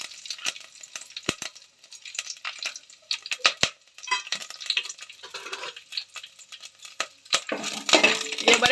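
Whole spices such as bay leaf, black pepper, stone flower and cloves being stirred and sautéed in a pan for prawn biryani: close scraping and clinking of a spoon against metal with a soft sizzle rising toward the end.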